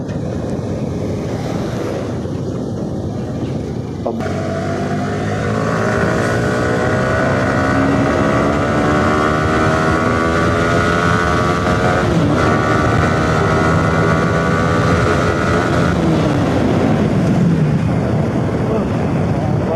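A Yamaha R15 V3 motorcycle rides over a rough, broken, uncemented road, its engine droning steadily with shifting pitch beneath heavy wind rush across the microphone.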